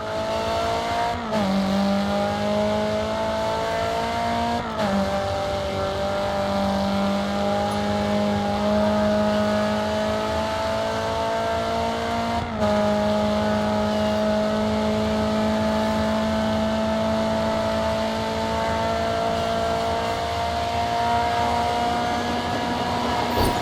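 A race car engine in Grid 2 drones loud and steady at high revs, with a few quick shifts that dip and climb the pitch, holding a sustained, close whine throughout.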